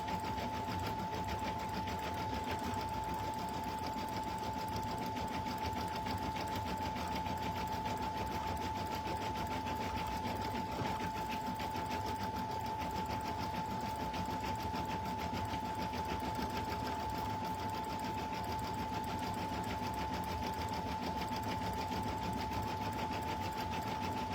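A sewing machine stitches a handmade stuffed toy, a steady continuous whirring hum with a constant tone running unbroken throughout, fairly quiet and alone.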